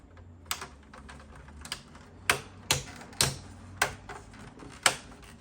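Plastic cover pieces of a PS5 console pressed together, producing about eight sharp separate clicks and snaps at close range, with no speech.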